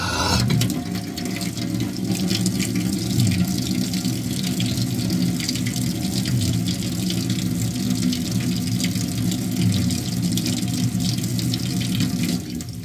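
Water running hard from a tap into a sink, a loud, steady, close gushing rush that continues unbroken for the whole stretch, with no voices.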